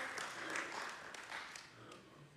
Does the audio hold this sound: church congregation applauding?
yes